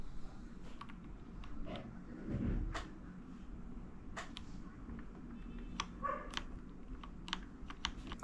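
A keycap being pressed onto a K86 mechanical keyboard, scattered sharp plastic clicks and taps at an uneven pace, with a brief duller knock partway through, close and fairly quiet.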